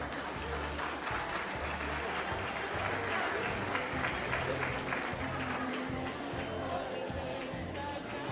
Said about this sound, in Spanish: Fuerte el aplauso para la mesa que se llevó el premio